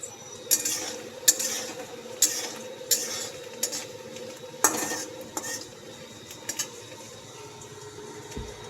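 Onions frying in a pan with ginger-garlic paste, a steady soft sizzle under repeated clinks and scrapes of a spoon stirring against the pan, close and moderately loud.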